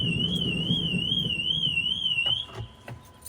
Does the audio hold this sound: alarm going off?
yes